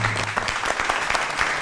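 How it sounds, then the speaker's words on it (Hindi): Studio audience of a Pakistani children's comedy show applauding the young guests, a brief, steady burst of clapping. "इनके लिए तालियां"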